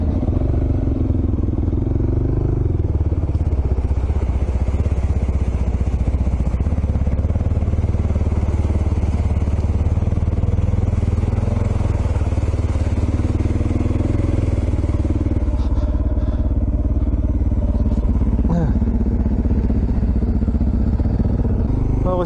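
A motorbike ridden through deep sand at Little Desert National Park, its engine droning loud and close with steady, labouring throttle and occasional clatter and bumps.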